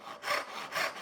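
A hand saw cuts dovetails in wood, two rasping strokes sounding close and steady with a rhythmic push-pull rise and fall, with no voices over them.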